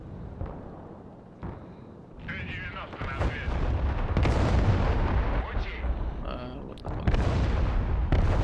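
Heavy explosions and booming artillery-like blasts rumble continuously during a bombing strike in the war game Broken Arrow, dense and layered with sharper cracks of gunfire mixed in, loud and sustained throughout.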